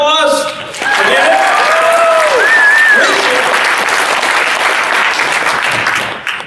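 An audience breaks into loud, sustained applause, a dense wash of clapping that rises quickly after a short lead-in, with voices calling out and whooping over it.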